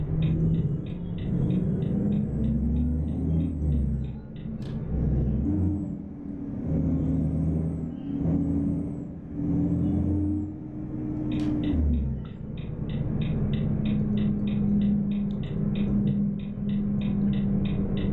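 Low, rumbling engine of a Marcopolo G7 bus in Euro Truck Simulator 2, climbing a hill, droning steadily with pitch rising and falling as it shifts, plus faint rhythmic ticking over the top.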